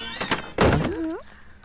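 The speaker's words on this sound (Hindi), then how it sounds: "दरवाजा बंद कर।" A door being shut in a house in a dubbed film scene, a single solid thunk under a raised voice, followed by a brief squealing sound.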